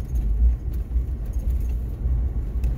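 A car rattling as it drives through downtown Seattle, with a steady low road rumble and loose metallic jangling, like keys, shaking throughout.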